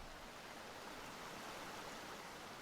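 Steady broadband rush of flowing water from a stream turning a water wheel in the Record of Lodoss War: Deedlit in Wonder Labyrinth game, a continuous even wash with no other sounds.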